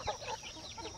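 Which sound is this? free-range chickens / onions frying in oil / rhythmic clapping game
free-range chickens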